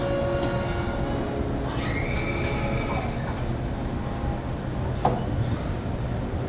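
A train rumbles past a bar in Chicago, a loud continuous roar of rail cars with rhythmic wheel clatter and brief metallic squeals, close by and steady throughout.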